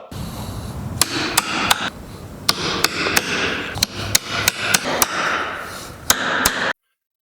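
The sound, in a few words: hammering nails into anvil mounting boards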